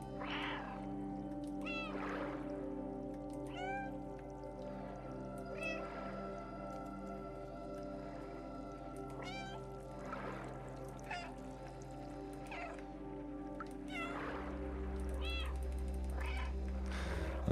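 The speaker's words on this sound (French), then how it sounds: "il est tellement mignon quand il miaule" The cat in the video game Stray meows repeatedly in short, clear calls scattered over a steady ambient music bed, with a low hum joining near the end and no talk.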